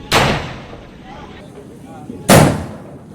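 Two sharp, loud blasts from a homemade toy cannon fired for Diwali, about two seconds apart, each a booming bang that fades quickly, with faint voices between them.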